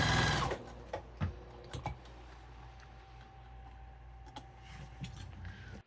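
A sewing machine top-stitches a denim jeans crotch repair with upholstery thread, running in a steady mechanical hum after a brief burst, broken by a few sharp clicks and taps.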